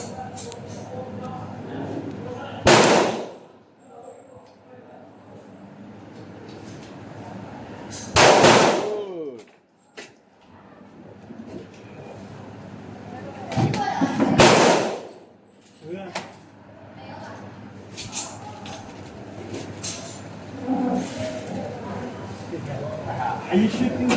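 Glock pistol shots at a shooting range: about four sharp, loud reports spaced several seconds apart, with people talking between the shots.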